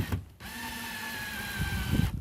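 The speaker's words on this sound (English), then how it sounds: "hit your drill in reverse." A power drill runs in reverse to back a stubborn screw out of a board, giving a steady motor whine for about two seconds before stopping.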